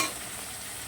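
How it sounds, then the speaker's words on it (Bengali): Onions and tomatoes fry in a pan with a bright, continuous sizzle while being stirred, close and fairly loud with no talk. "দেখো পেঁয়াজ আর টমেটোটা কিন্তু দেখো লাল লাল করে ভাজা হয়ে গেছে।"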